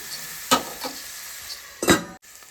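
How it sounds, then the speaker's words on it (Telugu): Prawns with chopped onion and green chili fry in a pan, with a low steady sizzle broken by two sharp scraping stirs, the second louder, and a brief clink at the end. "పచ్చిరొయ్యలు బాగా వేగాక అందులో కట్ చేసుకున్న ఉల్లిపాయ ముక్కలు, పచ్చిమిరపకాయ ముక్కలు వేసుకోవాలి. ఇవి కూడా బాగా వేగనివ్వాలి."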